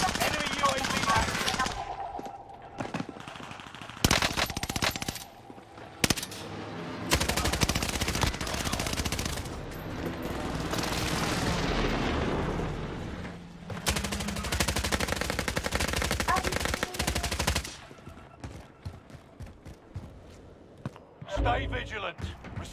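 Automatic gunfire in the Warzone video game, with sustained dense bursts, loud and near, broken by short gaps, alongside game sound effects.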